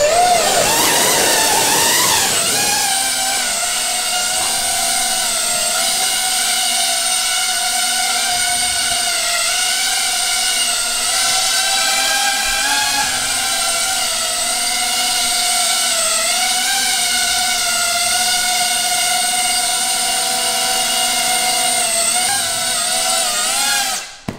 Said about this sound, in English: the woefully impractical hobby-grade drone strapped to my phone